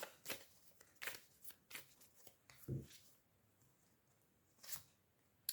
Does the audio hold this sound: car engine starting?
no